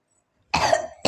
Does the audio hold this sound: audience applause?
no